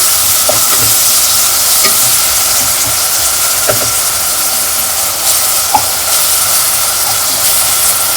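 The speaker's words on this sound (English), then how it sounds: "I'm going to add our ginger, garlic, and green chili paste and mix it really well. Let it brown along with the onions." Onions browning with ginger, garlic and green chili paste sizzle loudly and steadily in a pan, with a few sharp scrapes of a spoon stirring the mixture at irregular intervals.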